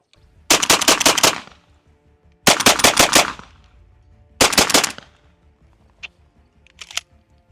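A Benelli M4 clone semi-auto shotgun firing Remington 8-shot shells in three loud, close bursts of rapid shots, each several rounds fast, with quiet gaps and a couple of faint clicks after.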